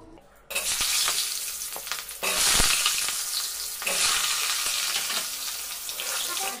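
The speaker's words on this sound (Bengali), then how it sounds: "এবার এই তেলে দিয়ে দিব কেটে রাখা আলু" Washed, drained cut potatoes dropped into hot oil, bursting into a loud, steady sizzle that surges with each addition and continues alone without talk.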